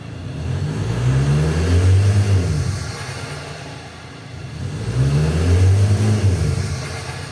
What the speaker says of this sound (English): I'm going to give it some revs and see what changes